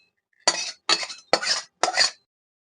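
A pan of tengra fish tel jhal is lifted off the stove, four quick metallic scrapes and clinks of the cookware, close and clear with silence between them.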